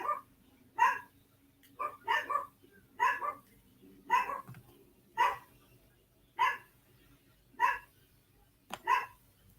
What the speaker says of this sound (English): Sorry, y'all can hear the dogs. They love to bark.